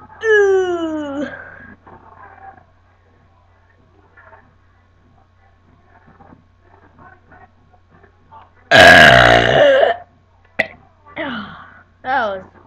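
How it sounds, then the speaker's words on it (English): A person lets out a loud, long burp near the mic, followed by a few shorter vocal bursts, with quiet talk and a low hum filling the gaps before it. "I'm gonna do some burps."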